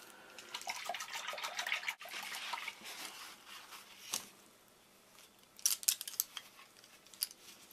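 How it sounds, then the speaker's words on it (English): Paintbrushes swished in a bowl of water while cleaning acrylic brushes, giving a soft, busy sloshing and splashing that swells and fades, with a brief pause and a later burst of sharper splashes, close and fairly quiet. "So I'm going to swish them all in this bowl of water."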